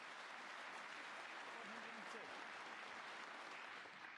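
A snooker crowd at the 2026 Welsh Open final between Barry Hawkins and Jack Lisowski applauds in a steady, faint wash of clapping that lasts throughout, with a soft voice barely audible beneath it.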